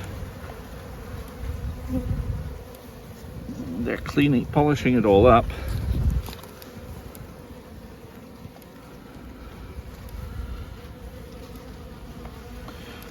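Honey bees at an open hive of a spring colony hum in a steady, close buzzing drone while a person talks quietly over it partway through.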